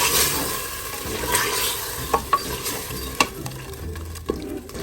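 Mutton frying with yogurt in a pot, a steady close sizzle with spoon scrapes and stirring clatter, a few sharp clicks of the utensil against the pot, no talk.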